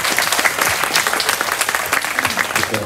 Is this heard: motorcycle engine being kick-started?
no